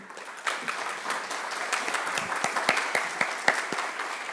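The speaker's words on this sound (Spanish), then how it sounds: "a quien le damos esta tarde un fuerte aplauso de bienvenida" An audience applauds to welcome a university professor onto the stage at a talk on extrajudicial enforcement clauses, a steady patter of many hands with sharper individual claps, moderately loud and without voices.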